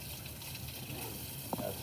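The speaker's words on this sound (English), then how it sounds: "Just a little bit of warm water," Warm tap water runs for cleanup after linoleum block printing, a quiet steady gush with a brief splash near the end and no talking.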